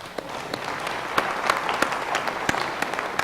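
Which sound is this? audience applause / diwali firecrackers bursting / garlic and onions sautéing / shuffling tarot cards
audience applause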